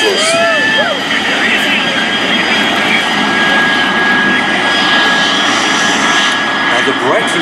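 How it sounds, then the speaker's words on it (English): Several L-39 Albatros jets of the Breitling Jet Team, a civilian aerobatic team, run their engines ready for takeoff at an airshow, a steady loud jet roar with a high whine throughout, with voices over it. "Our jets are ready for takeoff. Our 7 L-39 Albatros."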